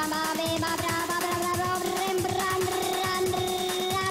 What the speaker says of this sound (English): That noise is horrific. That is the ringtone